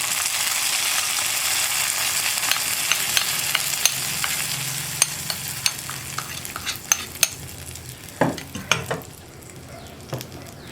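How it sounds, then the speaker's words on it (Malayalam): A tempering of mustard seeds and curry leaves stirred into a cucumber and dal curry: continuous sizzling crackle with scraping stirs and sharp clicking spoon taps against the pot, growing sparser toward the end. "ഇനി ഞാൻ വറവ് കറിയിലേക്ക് ചേർത്താണ്."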